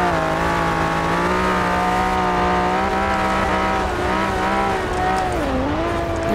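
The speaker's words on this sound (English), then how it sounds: "Engine revs so high. It's amazing." A stock 1968 Ferrari 365 GTB/4 engine in Forza Horizon 4 revs high and loud, holding a steady howl for several seconds before dipping briefly and climbing again.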